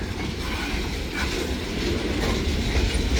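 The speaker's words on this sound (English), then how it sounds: "Kind of surprised to see a train." A train hauling ballast rolls past close by, steady broadband rumble with rhythmic wheel clatter on the rails, continuous throughout with no voices.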